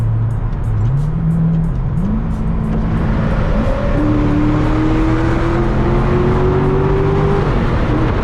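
A Chevrolet Corvette C6 Z06 with its LS7 V8 revs up in a close, loud run, the engine note climbing in stepped pulls and holding high before easing, with no talking over it.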